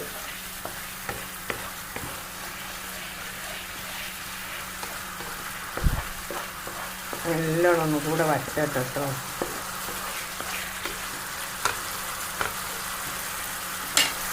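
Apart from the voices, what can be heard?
fish frying in oil in a pan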